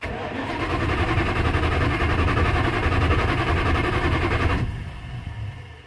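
A 1972 Dodge W100 4x4 pickup engine cranks and catches, settling into a loud, steady run before cutting off abruptly near the end, heard up close with no talking.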